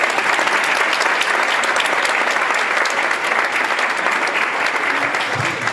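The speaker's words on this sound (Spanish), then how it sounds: "le damos un fuerte aplauso" At a club's tenth-anniversary event, an audience breaks into strong, continuous applause as a guest returns to the stage, the clapping dense and loud from start to finish.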